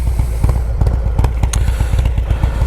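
A motorcycle with a 2-into-2 SNS Grand Nationals exhaust idles loudly up close, its exhaust popping in a rapid, uneven rhythmic burble with occasional sharper cracks.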